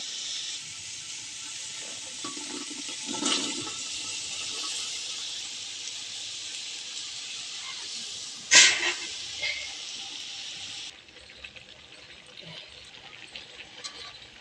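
Peas tipped into hot spiced oil for ghugni let out a steady loud hiss and sizzle, with a sharp burst of crackling partway through before the sizzle settles quieter.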